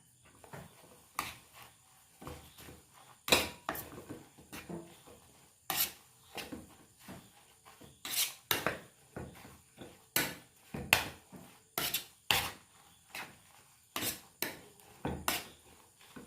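A drumstick leaf (moringa) dish being stirred after ground black pepper is added, with soft scraping and rubbing strokes of a spoon against the pan, coming in irregular bursts of mostly quiet, close-up stirring.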